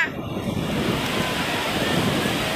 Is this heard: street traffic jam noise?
no